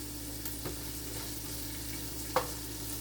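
Pancetta or regular unsmoked bacon frying in a pan for a ragu Bolognese, a steady broadband sizzle with a faint low hum underneath and a single sharp tick near the end, no voices.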